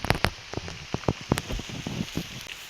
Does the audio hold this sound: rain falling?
yes